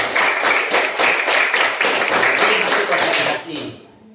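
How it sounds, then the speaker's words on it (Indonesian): A classroom of students claps together in a dense, loud burst of applause lasting a few seconds before it quickly dies away. "Tepuk tangan untuk Mas Misbah."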